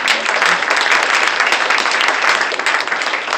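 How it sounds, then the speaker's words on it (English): Conference attendees at an afternoon symposium session clapping for themselves, a loud, dense round of applause filling the room without pause. "Give yourselves a round of applause"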